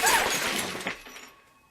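Glass shattering in a single bright burst of breaking shards that quickly fades out, close and loud, with no talk.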